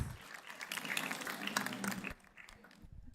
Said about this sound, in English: If everyone can give her a round of applause.